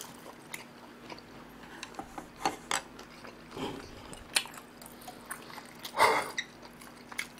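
Chewing and biting on chop steak during a Korean eating show, soft intermittent crunches and mouth sounds close to the microphone, with no talking.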